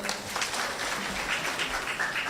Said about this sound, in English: Let us clap for them.